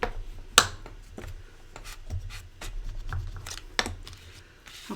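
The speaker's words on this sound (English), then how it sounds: "I'm going to bring in those tabs and go over those with my bone folder." Bone folder rubbed over scored paper gift-box tabs on a craft table, giving soft, close rubbing and scraping strokes with a few sharper taps, fairly quiet and uneven in rhythm, with no talk.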